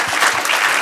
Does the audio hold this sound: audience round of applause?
yes